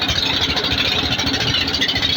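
A motor vehicle engine of the kind called dakadaka in Mai-Ndombe province runs steadily and loudly up close, a continuous rumbling drone with a fast, even rattling pulse and no talk.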